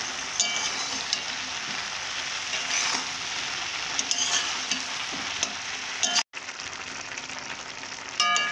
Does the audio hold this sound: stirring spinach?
yes